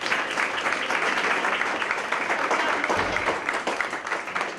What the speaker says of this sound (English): How about one more round of applause for Morgan?